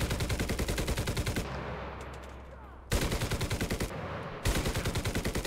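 Rapid machine gun fire in War Thunder with infantry combat, loud continuous bursts broken by short pauses of low rumble, then resuming in steady rapid rattles.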